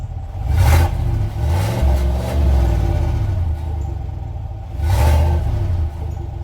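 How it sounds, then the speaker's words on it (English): A 2021 Chevrolet Silverado 1500 LT Trail Boss with a 5.3 liter V8 and dual tip exhaust revs loudly and close up, two strong throttle blips rising over a deep, steady idle rumble, with no talk. "with the dual tip exhaust on this thing, it sounds amazing"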